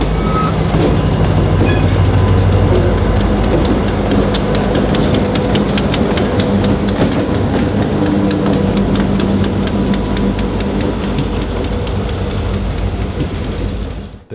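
Great Smoky Mountains Railroad train with its two diesels at the back rolling steadily on the rails, loud and close, engine drone under continuous wheel clatter and rhythmic clicks at the rail joints, fading slightly near the end.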